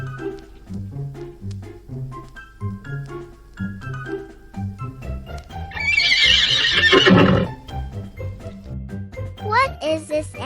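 A wild horse neighs loudly and close in a long, shrill whinny that rises and then trails off, preceded by a steady rhythmic clip-clop of hooves with faint jingling, and followed by a few more short squealing calls.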